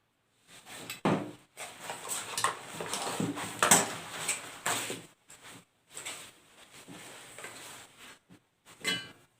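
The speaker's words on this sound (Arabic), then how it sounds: "نبدا نحرك من الاول بالسباتول" A spatula scrapes and knocks against a pan while food is stirred, close irregular bursts of scraping and clatter separated by brief pauses.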